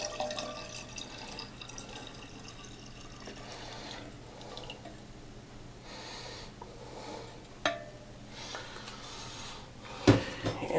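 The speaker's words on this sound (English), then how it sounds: "I'm going to pour that in." Dissolved hot fining mix is poured into a wine kit batch, a soft, intermittent liquid trickle and splash with occasional drips and a clink of equipment near the end, close by and fairly quiet.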